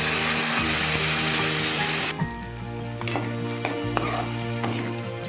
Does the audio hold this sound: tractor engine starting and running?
no